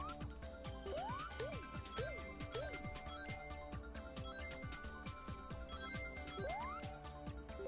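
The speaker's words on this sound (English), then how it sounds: "sounds like an epic ringtone" Melodic ringtone-style electronic jingle from the Sonic CD video game, with rising chirps and bouncy repeating notes over a steady synth beat, loud and continuous throughout.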